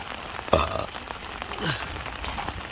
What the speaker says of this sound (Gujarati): એકદમ વરસાદ આવે છે